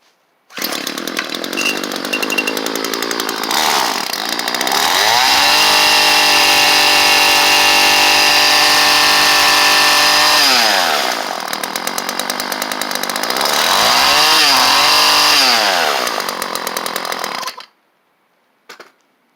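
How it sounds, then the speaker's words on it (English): Small 31cc two-stroke engine with a cutting attachment, running after a carburetor tune, loud and close, revving up to a sustained high whine, easing to idle, then revving again before cutting off. "I've put this attachment back on and tweaked the carburetor a little bit. Seems to be running better"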